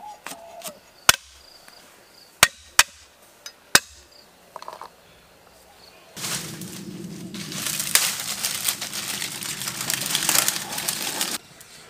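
A tuna fish head is chopped in half with a cleaver, giving a series of sharp, loud, close thwacks at irregular intervals, followed by a louder stretch of crunching, scraping kitchen noise.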